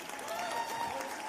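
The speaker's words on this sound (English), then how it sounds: "So let's give our partners a round of applause" Brief applause from an audience at a conference forum, a short, moderately loud burst of clapping with a faint tonal whine underneath.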